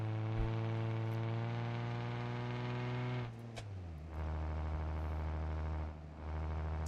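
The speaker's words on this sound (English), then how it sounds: "what a good sound this vehicle is making right now. I think it has no exhaust on it" A simulated vehicle engine running without an exhaust in the BeamNG driving game, a steady buzzy hum with strong harmonics that drops sharply in pitch midway, then settles into a lower, even drone.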